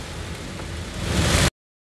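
Heavy rain falls during a journey from Padang to Bukittinggi, a dense, steady hiss that swells louder before cutting off abruptly.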